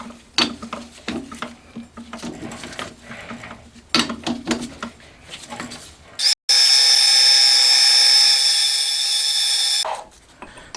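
A lathe cuts metal for a motorcycle rocker arm on a Honda Monkey engine being converted to four cylinders: scattered knocks and scraping, then a loud, steady, high-pitched machining whine for several seconds that cuts off abruptly.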